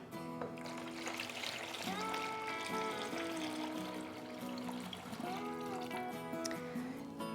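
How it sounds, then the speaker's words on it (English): Water pours continuously into a container of cooled mixture to make lemonade with frozen concentrate, a steady trickling splash that runs throughout alongside other tonal sound. "So next we're just gonna add 7 more cups of water."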